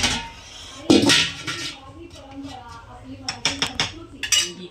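A metal water pot set down on the lid of a dum biryani pot, giving a sharp metallic clank followed by a series of lighter clinks and knocks as it is settled into place, with a voice talking over it.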